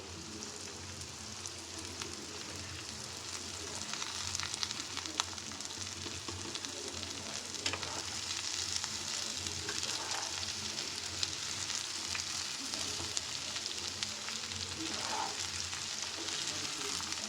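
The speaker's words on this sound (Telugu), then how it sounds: "వీటిని ఇప్పుడు దీంట్లో వేసి వాటి పచ్చిదనం అంతా పోయే వరకు ఫ్రై చేసుకోవాలండి." Sprouted legumes fry in a pan for a curry, giving a steady, soft sizzle with occasional stirring scrapes and crackles throughout, fairly faint and with no talking.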